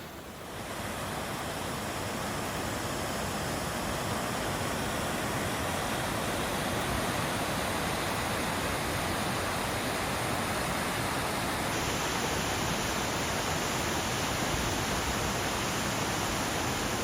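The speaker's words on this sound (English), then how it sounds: "you're going to see a bunch of these little random waterfalls coming off the mountains" Steady rushing roar of a small waterfall spilling off a mountainside in the North Cascades, a dense unbroken wash of falling water that fills the scene at constant loudness with no voices.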